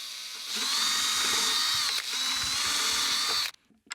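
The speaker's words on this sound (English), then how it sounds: "That's our mounting plate holes drilled." A power drill bores mounting plate holes for a budget hinge jig with a vacuum feature, a loud steady whirring grind in two bursts with a short break, then it stops abruptly and a few faint clicks follow.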